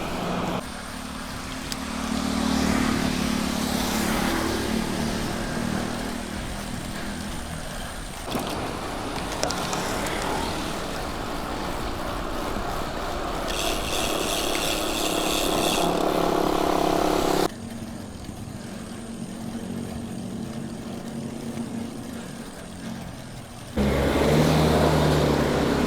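Motorcycles on a road ride, engines droning loud and close over steady wind and road roar that runs throughout, with abrupt shifts in tone as the bikes pass and change pace.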